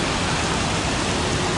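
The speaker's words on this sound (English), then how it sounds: "Got these nice waterfalls over it." Small waterfalls pouring over an outdoor sculpture, a steady broadband rush of falling water close by, loud and continuous with no other sounds.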